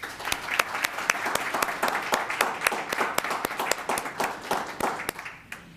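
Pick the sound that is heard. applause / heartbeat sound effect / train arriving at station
applause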